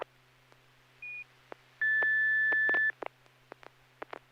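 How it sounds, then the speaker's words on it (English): Steady electronic tones go out over a ham radio for an SSTV test: a short beep, then a sustained longer tone, amid faint static and clicks. "Let me go ahead and try a tone test, please"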